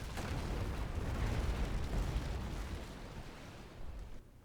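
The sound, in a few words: ship's front cannon firing in the Naval Action video game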